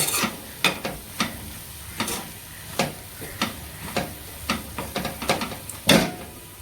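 A spatula stirs cowpea pods with crushed peanut powder in a pan, making a steady series of sharp scraping clicks over a soft background sizzle, with no voices.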